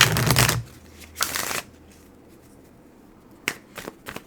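Playing cards riffle in a couple of quick shuffles, close and crisp, followed by a few soft card taps after a short pause.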